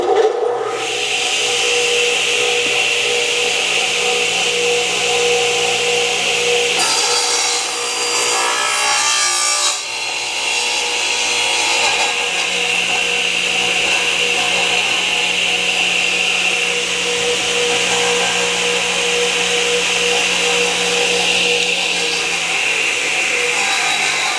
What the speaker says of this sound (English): So it should be cutting just barely into the sacrificial top of the front table.